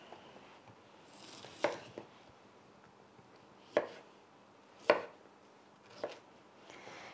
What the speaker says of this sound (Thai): จะหั่นเป็นชิ้นใหญ่หน่อยค่ะ